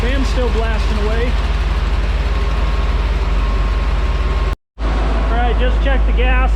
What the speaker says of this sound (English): engine's still blasting away.